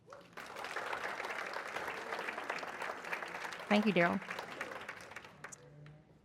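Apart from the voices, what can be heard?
luncheon audience applause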